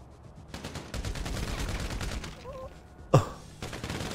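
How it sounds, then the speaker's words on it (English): Gunfire in the video game GTA V, with rapid bursts of shots rattling through the first seconds, then a sharp, louder single report near the end, set against faint game ambience. "I'm currently shooting him in the head."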